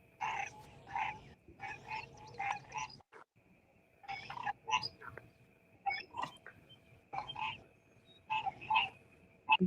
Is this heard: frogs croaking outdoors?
yes